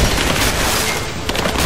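Dense, sustained gunfire in Rise of the Tomb Raider, loud overlapping shots and bursts with no break, close and continuous throughout.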